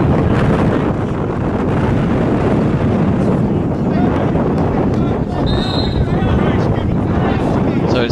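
Strong wind gusting across a microphone on an evening at a football ground, a constant loud rumbling buffet with a faint voice talking beneath it.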